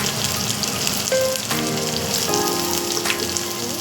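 Finely chopped small onions sauté in a pan with curry leaves and chilies, making a dense, loud, even sizzle that holds steady for a few seconds with no talking.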